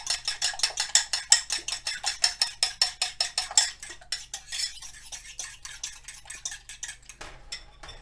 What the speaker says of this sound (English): Whisk to combine.